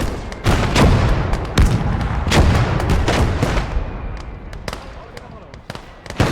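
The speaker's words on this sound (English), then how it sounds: "we've got some kind of Some kind of heavy artillery coming at us." Heavy artillery fire in the video game Blood Red Snow, with repeated loud booming blasts and explosions at irregular intervals, some close together, over a continuous battle rumble.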